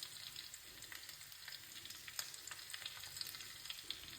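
Chicken pieces for a spicy, sour pickle sizzle quietly in a pan while being stirred, a soft steady crackle broken by faint scraping clicks, with no talking.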